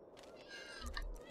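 A single short cat meow from The Sims 2, faint and rising, lasting barely over a second.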